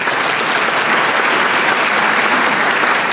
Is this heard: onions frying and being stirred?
no